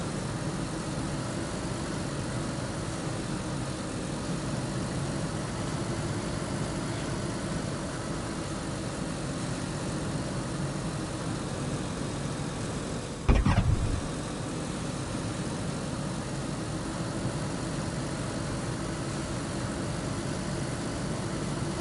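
A car engine in the game DayZ drones steadily while driving, a continuous low rumble with no revving, broken once by a short sharp knock partway through.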